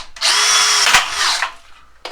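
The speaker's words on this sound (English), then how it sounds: "I'm going to drill it with my speed bit" A power drill with a speed bit whines loudly for about a second and a half while boring through metal at a mortar joint, its pitch dropping briefly as the bit bites, then cuts off.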